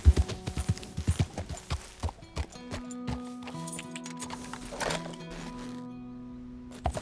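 Horse hooves clip-clop at a steady walking pace in the western game Red Dead Redemption 2, the close rhythmic hoofbeats fading under a low sustained musical tone and soft ambient texture.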